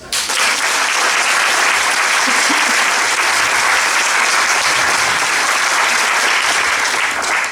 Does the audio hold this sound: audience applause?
yes